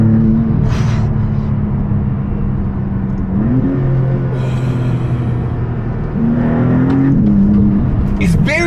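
Maserati MC20 in sport mode, its engine droning loudly and rising in pitch through two acceleration pulls, with wind and road noise and people talking over it.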